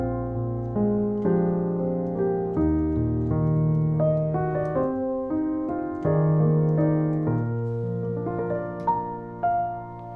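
Sampled Fracture Sounds Spotlight Piano played close-miked and completely dry, a flowing sequence of warm notes and chords with clear attacks and natural decays, no reverb tail, alone.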